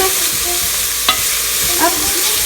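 Spiced lentils frying in a pan give off a loud, steady sizzle, with a couple of brief scraping stirs from a utensil cutting through the hiss.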